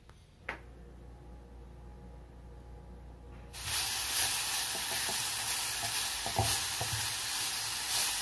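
Bacon sizzles in a frying pan, a steady close hiss that switches on loudly partway through after a quieter stretch with a few soft clinks, continuing evenly to the end without speech.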